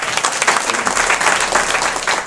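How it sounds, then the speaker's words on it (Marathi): Loud applause from a crowd at a village fair kirtan gathering, rapid dense clapping rising and swelling steadily for a couple of seconds. "जोरदार टाळी वाजवा."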